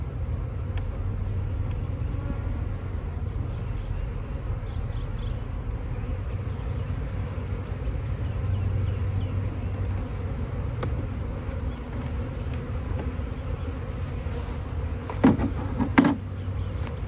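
A North Texas honeybee swarm hums steadily during its relocation, a continuous low buzz with occasional faint clicks and a brief louder stir near the end.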